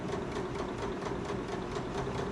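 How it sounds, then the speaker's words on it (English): Sewing machine running a gathering stitch line along a bodice, a steady, even mechanical hum with a fast rapid pulse, close and continuous throughout with no talking. "So I'm going to run a stitching line like a little less than, that I can gather."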